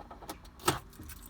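Car keys jingle briefly as a car is switched off, a short metallic rattle peaking once, close and moderately loud, with faint background noise and no talking.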